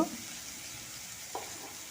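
Fennel seeds frying in oil in a pan make a soft, steady sizzling hiss, with a stirring scrape at the start and another brief one midway, fairly quiet and with no talking.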